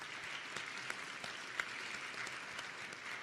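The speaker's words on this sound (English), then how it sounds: "please stand and let us give you a round of applause for your work." A room at a district community meeting gives steering committee members a round of applause, soft and somewhat distant clapping that holds evenly with a few sharper claps standing out.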